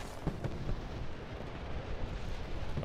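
Gunfire aimed at the player in the video game Battlefield 2042, a dense, continuous roar of shots and blasts with sharp cracks standing out, loud and close throughout without any speech.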